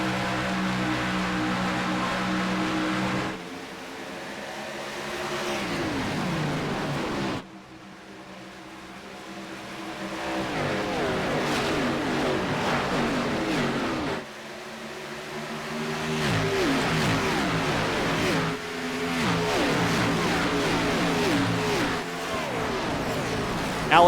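Stock race cars roar around Homestead Miami in a sim racing game, engines droning and shifting pitch through long sustained passes, with a few sudden cuts in level as the sound changes between views.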